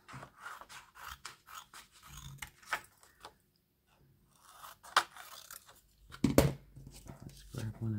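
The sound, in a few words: scissors cutting out sewn specimen slide pieces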